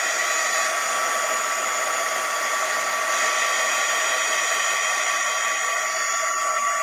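A handheld craft heat tool blows hot air on its low setting, giving a steady, close whooshing hiss that holds evenly throughout without any talking.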